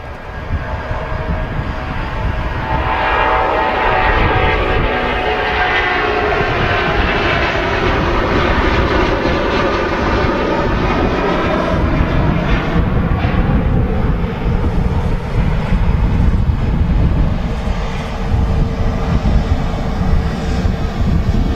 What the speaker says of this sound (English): Hear that noise from the 330.